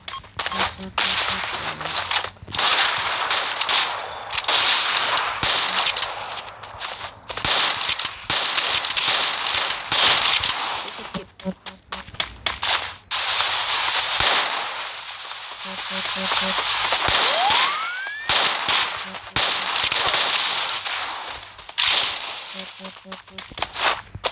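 Rapid bursts of video game gunfire and grenade blasts crackle in quick, irregular volleys, loud and close, with talk weaving in and out between the shots.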